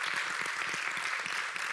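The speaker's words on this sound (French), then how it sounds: "est-ce qu'on peut les applaudir?" A church congregation applauding its worship team, a steady, fairly faint wash of clapping heard from a distance and lasting throughout.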